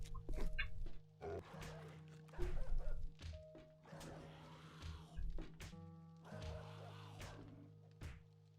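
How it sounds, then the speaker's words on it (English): A dog barks in the survival video game 7 Days to Die, a few distant woofs and thuds scattered among game ambience, with no talking. "Oh, got another dog out."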